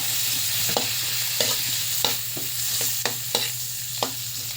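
Chopped onions frying in a pan for a bangus with black beans dish, giving a steady close sizzle broken by regular scraping stirs about every second.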